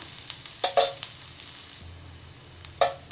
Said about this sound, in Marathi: कांदा थोडा तेलात आपण भाजून घेऊया